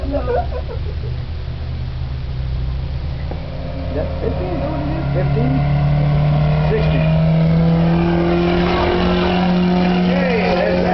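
A little Toyota race car circling Eagle Track Raceway on a summer evening, its engine droning and rising as it accelerates past, growing louder toward the end, with someone talking over it.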